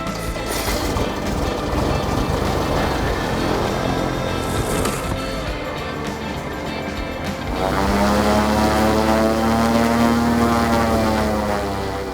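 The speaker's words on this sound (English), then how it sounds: "During the start, it is important to especially concentrate, as one needs to take off with minimum speed while having fully set the flaps." A light propeller aircraft takes off with flaps fully set in Namibia, its engine droning loudly and rising in pitch as power builds, the propeller tone climbing steadily after a rougher rolling stretch.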